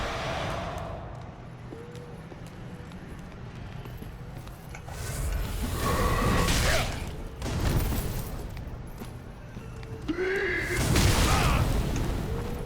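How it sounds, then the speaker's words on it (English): Fire bombs explode in Dark Souls 3, landing as a few dull, rumbling booms around the middle and end, over steady game ambience with faint voice-like tones. "I'm still being hit by fire bombs"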